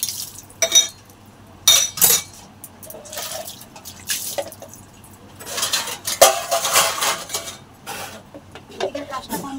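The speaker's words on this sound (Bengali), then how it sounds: "তো বাসনটা কিরম আওয়াজ হচ্ছে বলো তো" Metal utensils and a pot are scrubbed and rinsed under water, giving close clattering clinks and scraping knocks with dripping and splashing between them, and someone talks in places.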